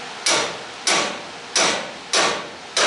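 A hammer strikes car suspension parts to knock a spindle loose, giving five sharp metallic blows at a steady rhythm, each ringing briefly before fading.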